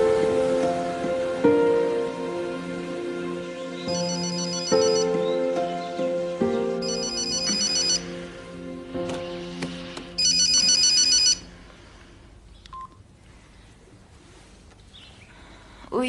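A telephone rings with a melodic, repeating ringtone, several loud chiming bursts over a steady musical background, then the sound cuts off into quieter ambience.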